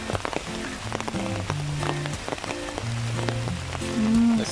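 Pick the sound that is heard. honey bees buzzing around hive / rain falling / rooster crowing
rain falling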